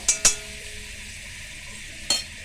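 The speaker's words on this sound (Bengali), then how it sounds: "সিমুইগুলো, মানে রেডিমেড সিমুইটা এই বাটারে ভেজে নিতে হবে। তো ভেজে নিচ্ছি।" Ready-made vermicelli frying in butter in a kadai, a soft steady sizzle underneath a few sharp clinks of a spoon stirring against the pan, two close together at the start and one near the end.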